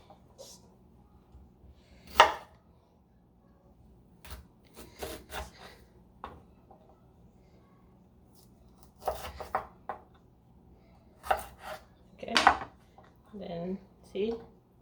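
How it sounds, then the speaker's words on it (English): A knife cuts through a piece of peeled ginger on a board, giving a few sharp, scattered knocks and scrapes with quiet gaps between them. "Make sure you peel your ginger and just cut it in half like that."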